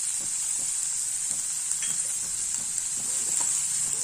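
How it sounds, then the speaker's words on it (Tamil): Capsicum rice masala sizzles gently in a pan over a low flame, with a steady frying hiss and soft spatula scrapes and stirs close by. "சிம்லேயே வச்சு கிளறி விடுங்க"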